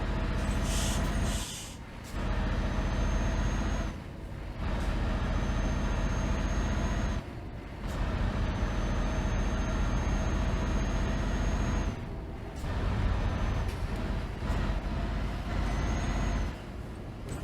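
A bus with air brakes in Euro Truck Simulator 2 on the Peru Death Road: a steady low engine drone with repeated sharp air-brake hisses and gaps, heard alone with no talk.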